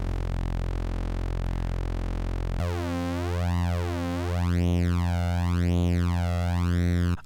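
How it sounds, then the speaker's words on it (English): Flanger effect in Bitwig with LFO sweep and feedback, giving a jet-like whooshing sweep that rises and falls repeatedly over a steady, buzzy synth tone, deepening partway through, loud and unbroken. "I actually like that it has much more of a predictable like jet sound as a flanger."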